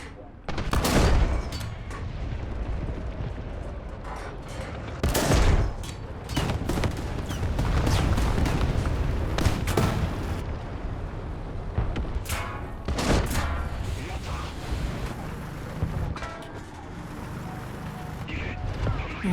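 Heavy gunfire and booming impacts hammer a tank in War Thunder, with loud repeated shots and blasts in irregular bursts throughout, while a voice talks over the battle noise.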